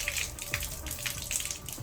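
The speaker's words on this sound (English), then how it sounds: "So he's gonna start letting the water, then he's gonna start pulling all back out" Water runs steadily through a rain gutter as it is flushed out during cleaning, a continuous close rushing and splashing flow with no voices over it.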